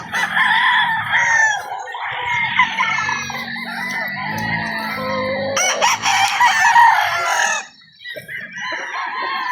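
Battle stag roosters crowing at a game farm, several birds overlapping in loud, repeated cock-a-doodle-doos with clucking among them, some near and some farther off.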